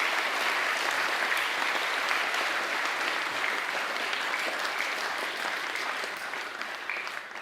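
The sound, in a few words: applause for the chess team coach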